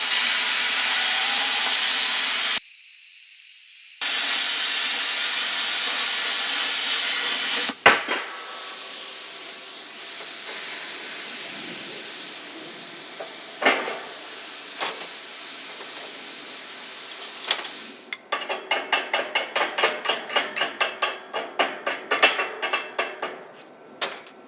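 An ARCCAPTAIN CUT 55 plasma cutter slicing through 3/8-inch-thick aluminum gives a steady, loud hissing roar that breaks off briefly, then returns, with sharp cracks and a rapid sputtering crackle near the end.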